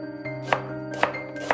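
A knife chops onion on a cutting board in a kitchen, three crisp evenly spaced thuds about half a second apart over a steady tonal background hum, with no talking.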